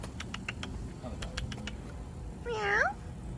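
A black cat meows once on a city street in Philadelphia in fall, a clear, rising-and-falling cry near the end over steady traffic and street background noise.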